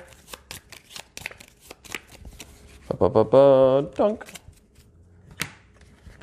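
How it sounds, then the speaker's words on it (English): A deck of cards is shuffled during a tabletop card game, with rapid riffling and snapping bursts and a brief bridge cascade; a person speaks briefly over it. "It's a lot of shuffling that you get to watch."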